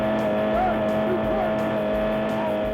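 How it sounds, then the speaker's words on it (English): A fleeing car, stuck in a rut amid tire smoke, drones steadily at high revs while tires whine and squeal, with faint voices underneath. "he tries to fire up his engine and continue to flee"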